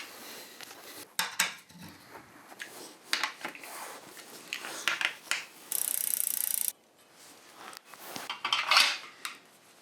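A ratchet tightens bolts on a mountain bike during winter maintenance in short bursts of rapid metallic clicking. Pauses separate the bursts, with a brief hiss partway through, close and fairly quiet with no talk.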